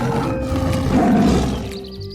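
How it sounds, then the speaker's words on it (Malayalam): A lion roars in a forest, a deep, swelling growl that rises to a peak around the middle and then trails off, loud and close. "അപ്പോഴേക്കും കാട്ടിൽ സിംഹത്തിന്റെ അലർച്ച കേൾക്കുകയും ചെയ്തു."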